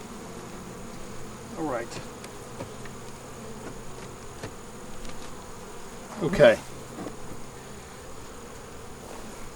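Honeybees hum softly and continuously around a hive while a new queen is installed, a low steady drone with a few louder buzzes passing near the microphone, under brief quiet remarks from a person.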